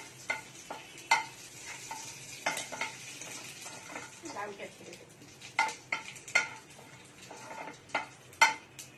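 Dried red chilies and whole cumin seeds fry in oil in a home kitchen while being stirred. A soft, steady sizzle runs under scattered sharp scrapes and clinks of the utensil against the pan.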